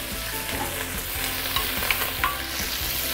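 Prawn shells fry over high heat for a broth, giving an intense sizzling hiss punctuated by rhythmic stirring scrapes and occasional pops.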